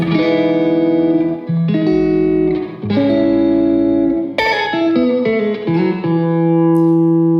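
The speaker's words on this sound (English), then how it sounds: "it's kind of just your nice standard Hall reverb." Sustained electric guitar chords and melodic lines through a hall reverb pedal ring out with a spacious hall reverb, notes blooming and trailing off into a lingering wash at the end.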